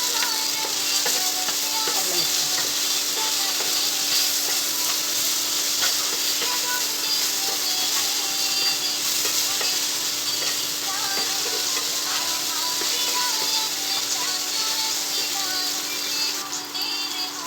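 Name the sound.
okra frying with turmeric and salt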